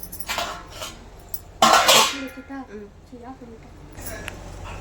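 A metal lid set down on a cooking pot in a home kitchen where biryani and fish curry are being made, one sharp clatter mid-way amid smaller utensil clinks, with someone talking and humming nearby.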